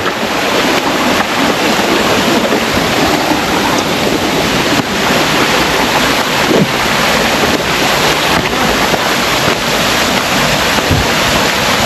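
A hidden waterfall pours with a loud, continuous rushing roar, mixed with wind buffeting the microphone and no voices.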